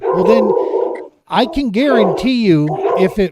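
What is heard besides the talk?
dog barking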